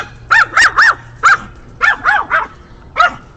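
A dog barks in short bursts close by, about eight sharp barks in uneven pairs and singles with brief gaps between them, indoors with no talking.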